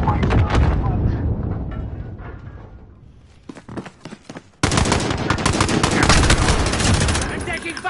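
Rapid video game gunfire crackles in dense, loud bursts. It eases briefly, then returns as heavy sustained automatic fire, with voices faintly in the mix.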